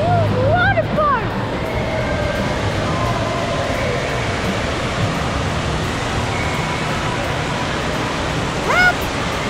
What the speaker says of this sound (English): Friends, watch this huge water park.